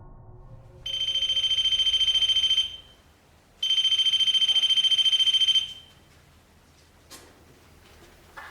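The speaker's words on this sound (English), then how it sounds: "Only seconds after we leave, the alarm goes into activation." A REM pod paranormal detector with temperature monitor sits on a tunnel floor at Archcliffe Gate and emits two long, loud, steady electronic beeping bursts separated by a short pause, over faint background noise.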